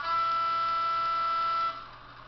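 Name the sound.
model Class 108 DMU twin air horns, Zimo decoder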